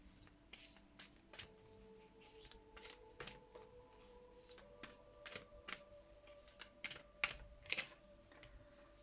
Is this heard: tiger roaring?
no